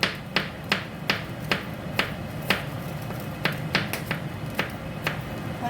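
A knife chops garlic cloves on a board in a kitchen, about a dozen sharp, close taps in an uneven rhythm, with no talking.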